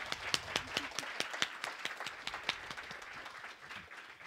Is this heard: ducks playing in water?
no